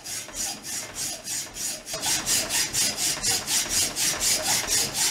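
Steady back-and-forth rasping of a saw cutting through a tape-wrapped metal pipe for a propane forge burner, with even rhythmic strokes, close and fairly loud, with no talking.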